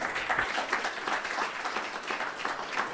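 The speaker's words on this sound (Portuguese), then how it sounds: "Aplaudo a Jesus." A church congregation applauds during a sermon, the clapping dense and continuous with slight swells, filling the room at moderate loudness.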